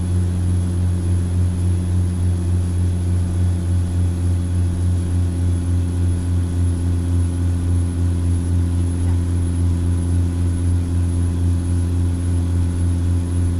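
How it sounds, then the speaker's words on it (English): A truck engine in American Truck Simulator, a steady low drone with a rhythmic pulsating throb that runs unbroken and loud throughout, with no one speaking. "That engine does not sound that great. Kind of got a rhythmic pulsating to it."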